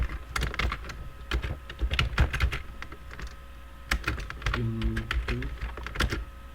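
Keys clatter on a computer keyboard while a SQL insert query is written in a database lesson, bursts of close clicks in quick runs with short pauses, and a voice speaks briefly between them.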